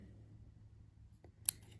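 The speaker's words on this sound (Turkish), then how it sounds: "Evet şimdi makasla arkadan" Scissors snip thread at the back of a black needle lace piece, a single sharp cut sounding near the end of a quiet stretch of low room hum.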